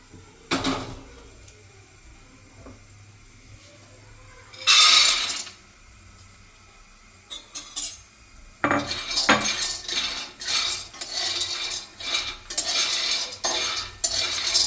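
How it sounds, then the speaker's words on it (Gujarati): Peanuts rattle and scrape in a pan, with brief clatters early on, then steady, busy stirring and clinking throughout the second half. "તો આપણે સિંગદાણાને શેકી લઈએ।"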